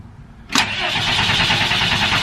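A step van's diesel engine cranks and catches after a fuel filter change, a sharp start followed by a steady, loud rough running sound close by, with no talking.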